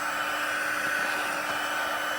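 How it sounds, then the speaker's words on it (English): A Stampin' Up! heat tool for embossing blows steadily, a constant close fan-and-heater whoosh with a faint whine, unchanging for the whole stretch. "This is the Stampin' Up! Heat tool."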